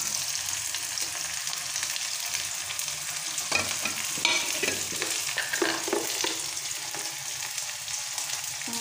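Onion and garlic fry in hot oil in a pan, a loud, continuous sizzle throughout with scraping stirs and clinks from a utensil in the middle, and no voices.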